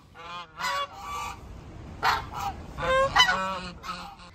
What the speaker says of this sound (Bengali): কত হাঁস চলে আসছে দেখুন।